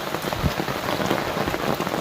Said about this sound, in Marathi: जोरात पाऊस आलाय